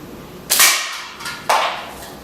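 A slingshot with the thumb braced on the frame is shot over the top of the bands, giving two sharp snapping releases about a second apart, close and loud.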